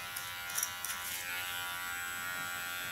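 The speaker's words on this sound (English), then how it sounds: "You can hear the hair is hard because it's rolling between my blades of the clipper" Electric hair clipper cutting hard, straight hair during a bob haircut, a steady high buzz with brief louder snags early on as the blades chew through the hair, close and alone.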